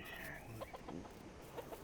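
Soft, rapid clucking of chickens in the video game Dinkum over a faint background hum, brief and fairly quiet, with a few short bursts.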